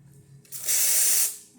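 The steam wand of an Andreja Premium espresso machine, freshly serviced, lets out a brief, loud, bright hiss that swells quickly and then cuts off, heard up close.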